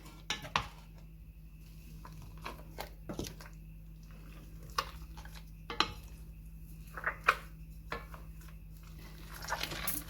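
A spoon knocks and scrapes against a bowl as egg is worked into keto fat head dough for Italian breadsticks, giving scattered, irregular clinks over a steady low hum, fairly quiet and close.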